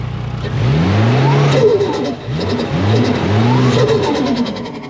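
Toyota JZX100 engine with a freshly replaced turbo revving repeatedly, close and loud, with several rising and falling blips that climb in pitch, then settle back to a steady idle between pulls, no talking.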